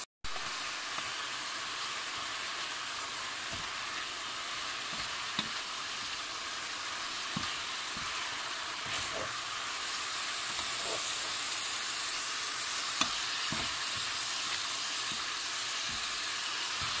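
Tuna in oil sizzles steadily in a hot pan for tuna flakes with carrots and beans, a continuous hissing fry broken now and then by faint clicks and stirring taps, with no talk.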